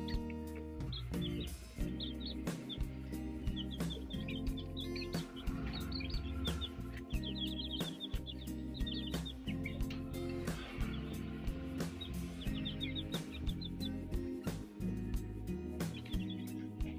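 One-month-old chicks of a Bangkok and Pelung chicken cross give many thin, high peeping chirps in scattered bursts over a steady, loud, noisy background.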